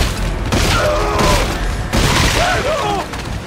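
Gunfire and heavy booms from the Dead Space 3 video game, loud and dense with crashing blasts and mechanical clatter filling the whole stretch, some game sounds swirling over it.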